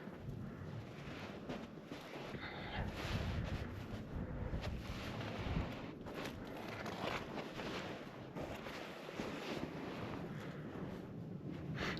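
Wind gusting across open, exposed mountain terrain, a steady broad roar with buffeting against the microphone that swells and eases throughout, with no voices.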